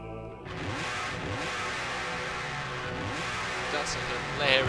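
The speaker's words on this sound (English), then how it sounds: "That's a hilariously bad motorcycle engine sound." Cheap-sounding motorcycle engine effect from Shin Megami Tensei 3 Nocturne, a steady droning buzz that holds evenly for several seconds, with a slight swell near the end.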